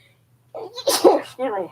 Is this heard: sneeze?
yes